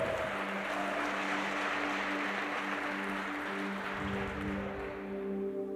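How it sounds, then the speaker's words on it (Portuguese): A church congregation claps in a sustained, fairly faint wash of applause, with a steady sustained tone running underneath throughout. "Pode bater palmas se você entendeu."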